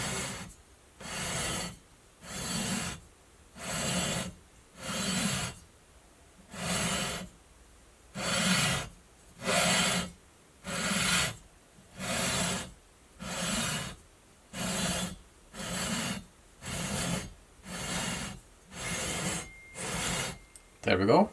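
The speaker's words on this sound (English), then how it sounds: "I'm just going to let this sanding beam doing its job, and I'm just gonna do a few strokes here." Sanding beam drawn in slow, even strokes along the frets of a Charvel Charvette 270 guitar during fret leveling, giving about seventeen regular raspy scrapes close by with short pauses between.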